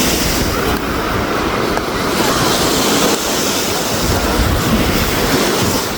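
Ocean waves wash steadily onto the sandy shore at Golden Bay beach in Malta, a loud, continuous surf roar mixed with wind buffeting the microphone, with no speech.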